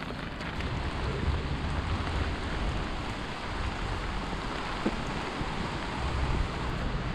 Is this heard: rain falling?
yes